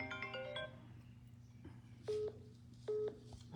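Phone tones for an incoming call from an unknown caller: a quick run of dialing beeps, then two short ringtone chimes spaced about a second apart over a low steady hum, faint overall.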